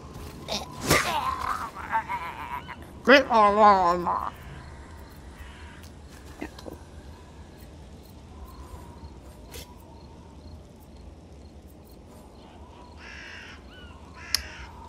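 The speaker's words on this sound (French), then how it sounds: "Oui, le bruit de corbeau est très adapté." A harsh video game crow caw rings out twice near the start, loud and close, then fades into a quiet background hum with a few soft clicks.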